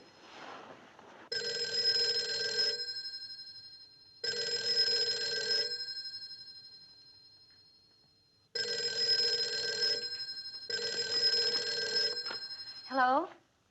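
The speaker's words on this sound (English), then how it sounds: "Wasn't that your phone?" An old telephone bell rings in four long electric bursts with pauses in between, moderately loud in a quiet room, and a short voice comes at the end.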